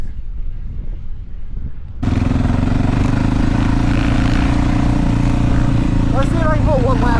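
Dirt bike engines start up abruptly after a quiet stretch and rev continuously on an outdoor track, a loud buzzing drone with rising whines near the end, while a rider talks over it.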